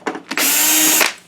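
A power screwdriver whirs steadily for under a second as it backs out a lamp door screw on a Digital Projection E-Vision WUXGA 6800 DLP projector, with short bursts just before the main run, loud and close.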